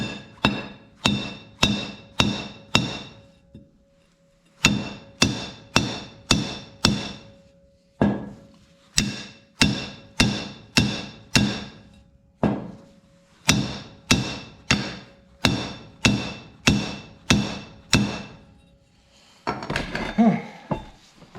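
Sharp, ringing hammer blows strike metal on a manure spreader to knock a stuck part loose, coming close and loud in quick bursts of four or five hits separated by short pauses.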